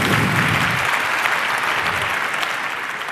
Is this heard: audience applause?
yes